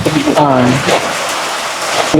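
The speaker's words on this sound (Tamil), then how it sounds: "இங்க பாருங்க, மழையே கடுமையாக மழை பெய்து கொண்டு இருக்குது." Heavy rain falls as a loud, steady wash of hiss and patter, with a voice talking over it at the start.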